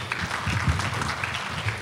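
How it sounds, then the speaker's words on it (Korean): An audience at a presentation and Q&A session claps together, a dense, steady patter of many hands that carries through the whole stretch at moderate loudness with no speech. "다시 한번 큰 박수 부탁드립니다"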